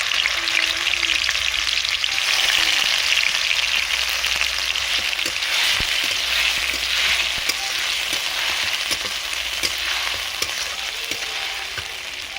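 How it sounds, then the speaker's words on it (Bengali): Onion paste fries in hot oil with black cumin, cumin and bay leaf, a dense, steady sizzle with occasional faint stirring clicks, close and continuous. "কালো জিরে, তেজপাতা এবং জিরে ভালো করে ফোড়ন হয়ে গেছে, ওর মধ্যে দিয়ে দেবো পেঁয়াজ বাটা।"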